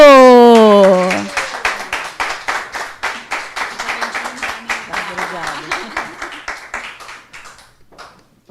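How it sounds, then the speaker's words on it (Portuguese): Engineering expo audience breaking into applause to welcome a speaker after a sustained tone fades, dense rhythmic clapping that thins and tapers off to scattered claps. "Vamos receber com uma salva de palmas Anita Cardoso."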